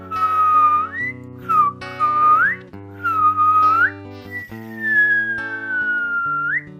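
Several men whistle a lively tune together in a public toilet, the melody rising and sliding in bright sustained phrases over a steady musical backing, with no talking.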